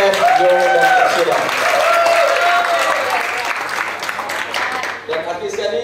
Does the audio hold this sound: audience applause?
yes